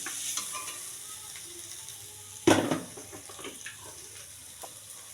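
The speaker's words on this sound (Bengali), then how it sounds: "তো ভালো করে এটা ভেজে নিয়ে আমি নামাবো।" Ground cumin frying in a pan, a soft continuous sizzle with light stirring scrapes and one sharper clatter midway, close and alone.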